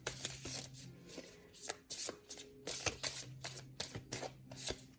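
Tarot cards are shuffled by hand in a quiet indoor setting, a series of soft riffling and slapping bursts in irregular rhythm, close but faint, with a voice murmuring briefly.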